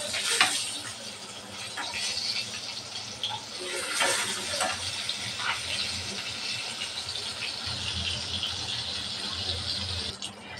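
Fish fries in oil after being flipped, a continuous sizzling hiss with scattered crackles and sputters, moderately quiet and close.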